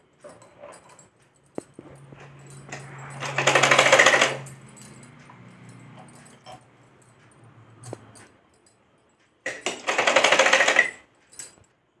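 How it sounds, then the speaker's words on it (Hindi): A sewing machine stitching a Patiala salwar runs in two short, fast rattling bursts, each lasting about a second or two, separated by long stretches of near silence with faint handling noises. "पहले सुई से बना सकता है, उसके बाद मशीन चला ले डायरेक्ट"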